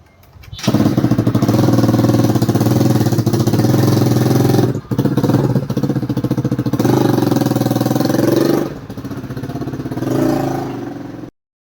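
A motorbike engine starts and runs loud and close, idling and revving with clattering, dropping off briefly a couple of times before fading toward the end.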